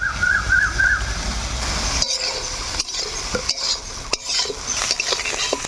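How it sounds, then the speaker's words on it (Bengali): Prawns fry in hot mustard oil in a kadai, a hissing sizzle broken by several sharp metal clinks and scrapes of a spatula stirring against the pan, with a brief high tone near the start. "সরিষার তেল কিন্তু বেশ ভালোভাবে গরম হয়ে গেলে দিয়ে দিব চিংড়ি মাছ আর ভালো করে ভাজি নিব"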